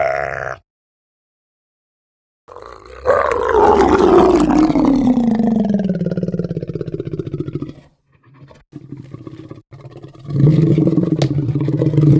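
A slowed-down wolf growl serves as a deep monster roar. It bursts in loud after a second of silence, slides lower as it drags on, breaks off, and returns in rough snarling fragments.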